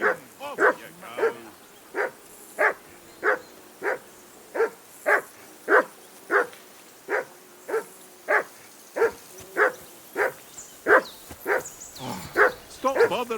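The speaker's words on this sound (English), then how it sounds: "I assume you can hear that damn dog of yours barking." A dog in the medieval world of Kingdom Come Deliverance 2 barks nonstop in a steady run of sharp, evenly spaced woofs, close and loud, with a faint voice briefly under it near the end.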